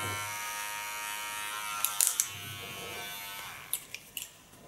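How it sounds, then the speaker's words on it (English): A large electric hair clipper buzzes steadily and close up while cutting hair, with a few short sharp snips and clicks over the hum. "So far the large clipper"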